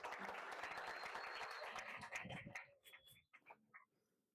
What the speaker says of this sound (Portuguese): Que bom, vamos aplaudir.